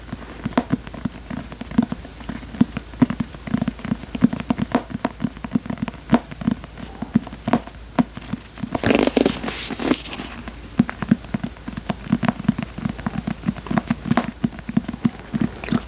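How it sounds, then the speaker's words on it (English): Finger pads tapping on a matte book cover in quick, soft, rain-like patters, close up and continuous, with a brief burst of rustling noise partway through. "I think that using finger pads sometimes can sound like rain, like mimic the rain."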